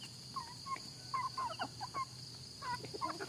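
A red male chicken, a rooster, calls in a rural Lao village yard with short, clipped bursts of crowing that repeat several times over a steady low hum.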